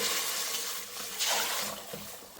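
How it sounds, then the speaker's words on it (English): Water poured from a kettle into a cooking pan for basmati pilau rice, a steady close splashing stream that swells and surges midway, with no talking. "We've got a pan, we've got a kettle of water. We're just going to pour that in."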